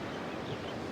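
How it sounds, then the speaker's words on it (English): Wind buffets the microphone at the beach while waves roll in, a steady dense roar with no pauses. "I know it's windy because we're right by the beach"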